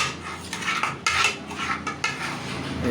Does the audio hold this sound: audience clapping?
no